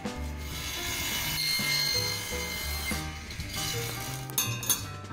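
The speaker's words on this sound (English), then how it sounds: "I'm going to cut everything to the correct length." A table saw with a crosscut sled cuts wood parts for a kitchen island to length. The sound is a continuous whirring blade with rising and falling cutting tones, and a few clinks near the end.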